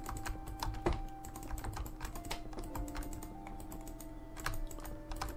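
Quick, irregular keystrokes on a new computer keyboard, clicking close by in bursts with short pauses and no talk, over faint background hum.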